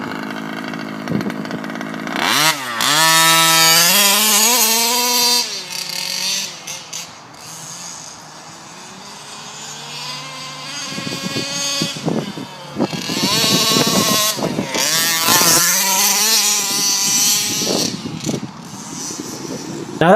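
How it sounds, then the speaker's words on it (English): A petrol 1/5 scale HPI Baja 5B RC car fitted with a Dominator exhaust pipe, a loud, raspy two-stroke engine that revs up and down in sharp bursts, dropping to idle in the middle before snapping back to high revs. "Now, I used to run a Dominator pipe on my HPI Baja 5B, and that thing was incredibly loud."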